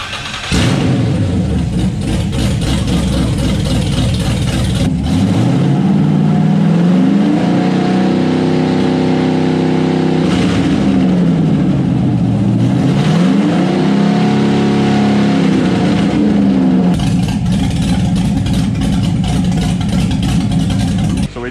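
An LS V8 swapped into a Chevy Luv pickup runs loud and close, idling, then climbing and falling through several smooth revs before settling back to idle.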